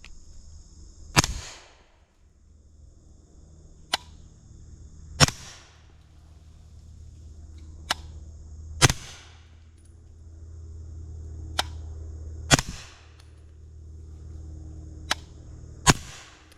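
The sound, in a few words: gunshots from B&T GHM9-SD 9mm, 115 grain supersonic ammunition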